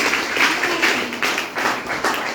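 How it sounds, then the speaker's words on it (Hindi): An audience at a business success meeting claps in a brief, moderately loud burst of scattered hand claps, with no voices over it. "ताली बजा दो एक बार"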